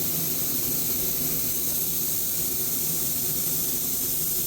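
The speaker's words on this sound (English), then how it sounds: "very careful and deliberate about spraying this Inca silver on here so I don't create a run" A paint spray gun laying down Inca silver metallic paint on a Stratocaster guitar body, giving a steady, even airy hiss with no pauses, moderately close and alone.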